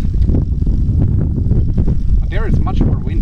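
Gusty wind buffets the microphone of an RC FPV drone in flight with a heavy low rumble throughout, and a brief warbling tone cuts through near the end.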